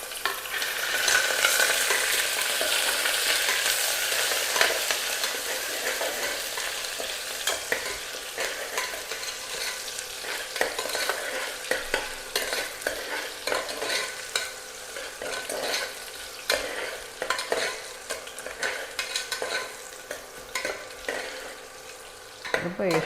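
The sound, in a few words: onion and green chillies sautéing in ghee while stirred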